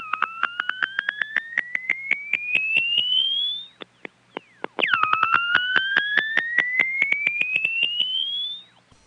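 An old telephone test circuit tone from Westbury, Long Island, sounds as a warbling, rising electronic tone that sweeps upward twice over a fast steady ticking pulse, with a brief gap in between, loud and clear with no talk.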